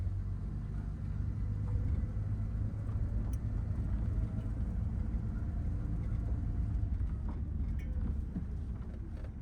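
Car engine idling at low revs while the vehicle rolls backward in reverse, a faint, steady low rumble with no clear rise or fall.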